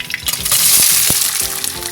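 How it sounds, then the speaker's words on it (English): Minced pepper dropped into hot oil, giving a loud close sizzle with bright hissing and a few scraping stir strokes, no talking. "I love that sizzle,"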